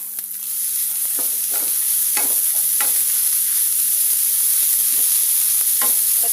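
Grated coconut mixed with salt is stirred and roasted in a pan for a drumstick-leaf chammanthi. A steady sizzle runs underneath while a spatula scrapes in repeated, uneven strokes close by.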